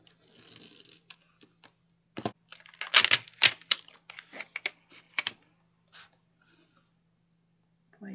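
Scissors snipping and trimming cardboard from an old gift box, a series of short crisp cuts and rustles bunched in the middle, close and fairly quiet over a faint hum.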